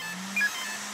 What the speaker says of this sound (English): Two beeps, great.